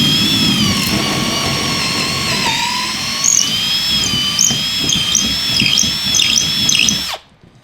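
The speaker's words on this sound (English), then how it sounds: "I'm gonna go ahead and just drill 2 holes" A loud, high-pitched electric drill whines steadily while drilling two holes for a custom kayak trolling motor mount, its pitch wavering slightly as it bites in, then cuts off abruptly at the end.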